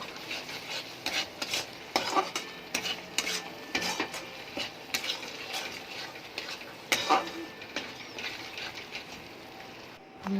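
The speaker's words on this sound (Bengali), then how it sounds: "ভালো করে নেড়ে চেড়ে কষিয়ে নেব" Doi katla, rohu fish curry with a little turmeric, being stirred and sautéed in a pan: repeated scraping and clinking of a spoon against metal over a light sizzle, fairly close.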